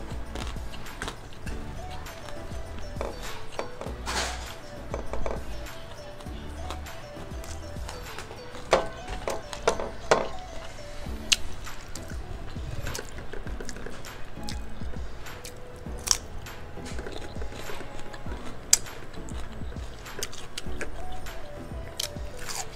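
Mouth sounds from eating radish and dried squid and anchovies fill a long stretch with close wet crunches, squishes and sharp clicks in an irregular rhythm over a faint low background.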